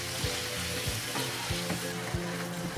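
Ground pork sautés with ginger and salt in a pan, a constant close sizzle broken by regular stirring scrapes about every half second, with no voices over it.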